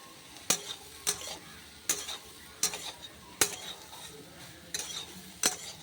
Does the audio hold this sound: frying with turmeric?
yes